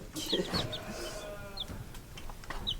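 Several short high peeps from young chicks, scattered over a couple of seconds amid background rustling and farmyard noise.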